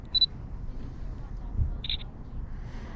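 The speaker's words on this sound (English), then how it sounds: "It does take a second. The shutter is kind of slow," A Papershoot camera's slow shutter clicks twice, a short bright tick near the start and another a moment later. Both are quiet over a low background hum and there is no talk.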